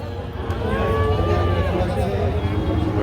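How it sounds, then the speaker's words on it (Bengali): Cattle low amid a busy outdoor cattle market in Kalaroa, Satkhira, Bangladesh, with drawn-out moos rising over a steady murmur of voices and background bustle. "এখানে অনেক সুন্দর সুন্দর গরু আছে"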